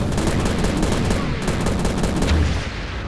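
Rapid, loud gunfire from an alien weapon in the 2006 shooter Prey, a dense continuous burst of shots with no pauses, close and overwhelming.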